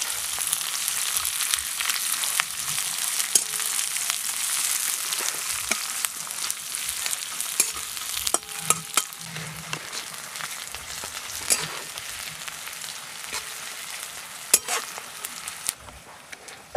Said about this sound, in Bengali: কাঁচা লঙ্কা কুচিটাকে একটু নাড়াচাড়া করে ভেজে নিচ্ছি।